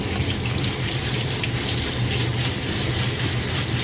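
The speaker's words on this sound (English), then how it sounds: "I'm gonna rinse these out for my French fries." Potatoes being rinsed for French fries under running water in a colander, a loud, steady gushing stream close by with no talking.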